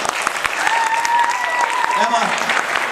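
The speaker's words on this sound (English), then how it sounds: "Let's give Todd a round of applause." Dense audience applause for a game show contestant at a convention panel fills the clip at steady strength, with a faint voice and a brief whistle-like tone riding over the clapping.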